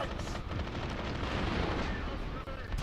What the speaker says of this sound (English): Oof, grenade.